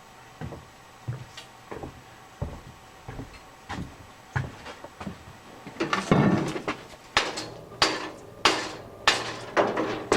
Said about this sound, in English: we'll just be able to knock that out with a hammer